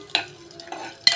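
Finely grated garlic cloves hit hot oil in a pan and are stirred, giving three short, bright sizzling bursts with quiet gaps between them and no voices.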